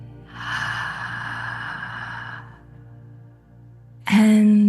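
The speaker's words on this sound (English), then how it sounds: "breathing in" A long, slow, deep inhale of breath during a guided Jewish meditation, breathy and airy for about two seconds over a steady low hum, followed by quiet before a tonal sound starts abruptly at the end.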